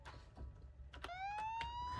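Police siren on a vehicle in the BeamNG.drive driving game, a short wailing tone that sweeps upward and holds, cutting in after a few brief clicks and thumps, with no talk.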